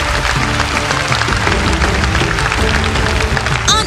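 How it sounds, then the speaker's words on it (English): A large audience at a corporate promotion ceremony in Korea applauds and shouts over loud stage music, a dense, sustained wash of clapping and cheering that stays full and steady. "Please give a big round of applause with huge shouts"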